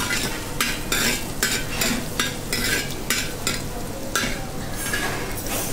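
A crushed coriander and cumin mix is tempered, lightly frying and being stirred in a pan, with a soft continuous sizzle broken by repeated scraping strokes of a utensil, with no voices.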